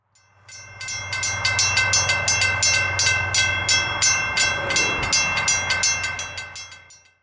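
A train passes a railroad crossing fitted with mechanical bells, the bells striking in a fast, loud, regular pattern for several seconds over the low rumble of the passing train, rising from quiet and fading at the end.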